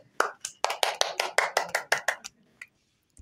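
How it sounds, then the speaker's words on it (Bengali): Children clap their hands at a kids' quiz competition, a short run of about a dozen sharp, close claps in an uneven rhythm that fades into a couple of last soft claps and silence. "হাততালি দাও।"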